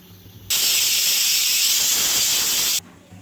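A pressure cooker cooking chole (chickpeas) on a stove vents steam through its whistle, a loud, steady hiss that starts abruptly, holds for about two seconds and then cuts off sharply.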